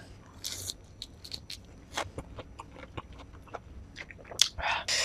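Crunchy bites and chewing of rujak fruit salad with guava, close and irregular, with crisp snaps and wet chewing, no talking.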